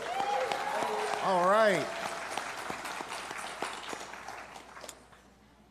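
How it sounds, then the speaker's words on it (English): At an awards show, the audience claps for itself, a scattered round of applause under a voice that swoops in pitch, tapering off toward the end. "Clap it up for yourselves"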